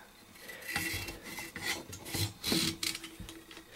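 Rope rubs and rasps against itself as a knot is pulled tight, a series of close, scratchy bursts in uneven rhythm with no one talking.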